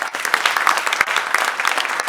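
An audience applauds the Soteka troupe after a dance performance, a loud, dense burst of clapping from a crowd with a few sharper individual claps cutting through.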